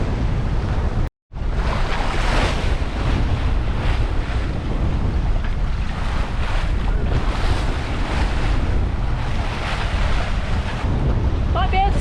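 Ocean waves and strong wind roar steadily around a sailboat under windvane steering between islands, with heavy wind buffeting on the microphone and one brief dropout near the start.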